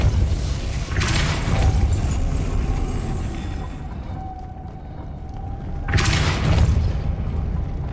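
A Depulso spell is cast in the Hogwarts Legacy video game, sounding as a loud, booming burst that swells, fades, then erupts again in a second heavy blast over a steady rumbling game ambience.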